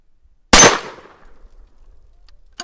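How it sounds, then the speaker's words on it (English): A shotgun fires a single black slug at a target, a sharp loud blast that decays quickly, followed by a faint distant impact near the end. "this is a black slug shooting at the left target"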